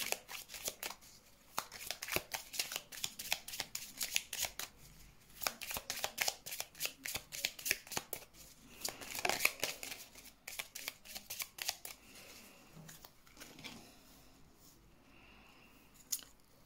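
A deck of tarot cards is shuffled for a reading, a long run of close, crisp riffling and slapping bursts in quick irregular rhythm that gradually thins out toward the end.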